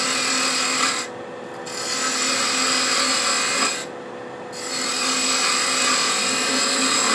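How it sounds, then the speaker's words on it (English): A spindle gouge cutting wood on a lathe, a steady close scraping and rasping hiss of the tool on the spinning workpiece, with two short pauses where the cut eases before resuming. "I'm going to use the spindle gouge, kind of just start that round over process a little bit."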